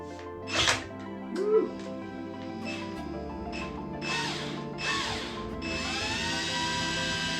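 An electric drill mixing resin in a container whirs steadily with a few louder bursts, ending in a sustained high motor whine, close by.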